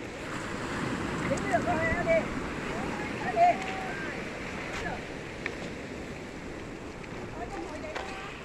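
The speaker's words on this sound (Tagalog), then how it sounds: "Lakas ng alon, grabe." Strong sea waves crashing on the rocky shore of Wong Chau island in Sai Kung, Hong Kong, a continuous rushing surf roar with buffeting wind on the microphone and faint distant voices.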